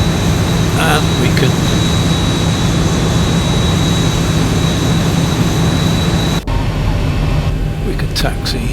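A light aircraft's engine drones steadily and loudly at low throttle while taxiing out for a Mach Loop flight. The tone is even and close, with a brief drop in noise near the end.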